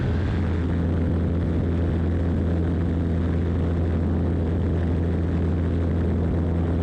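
A small airplane engine drones steadily in flight, a loud, constant low hum heard from inside the cabin with no break or change in pitch.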